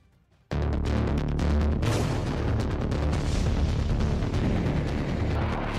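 Rocket launcher fire during street fighting in Mariupol: after a brief quiet start, a sudden heavy blast gives way to sustained, dense rumbling booms and crackling detonations that continue loud and unbroken to the end.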